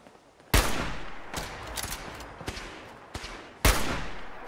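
Gunshots in the video game Fallout 4, a loud sharp blast followed by a run of scattered cracks and a second heavy shot, each with a short echoing tail.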